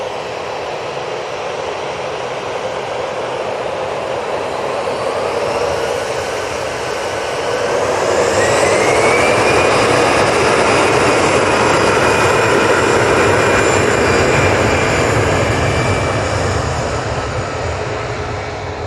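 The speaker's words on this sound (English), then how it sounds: "coming in from Barcelona, we have the Vueling A321 Neo" Vueling Airbus A321neo jet arriving from Barcelona at Manchester Airport, a loud, sustained jet-engine roar with a rising whine that swells midway as the aircraft passes close by.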